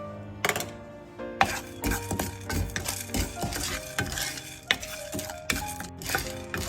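Black pepper and cumin dry-roasting in a pan, with close metallic clinks and scrapes of a spoon stirring and rattling the seeds in quick irregular bursts, some ringing pan tones between strokes.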